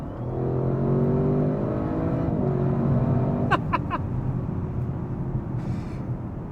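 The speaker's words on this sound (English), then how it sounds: "you can really hear those turbocharger compressors churning away here with the bigger turbos of the performance model" An Audi RS6 Performance wagon engine with bigger turbochargers drones and whirs steadily from inside the cabin, the pitch rising and falling slightly through the drive, with a few brief clicks midway.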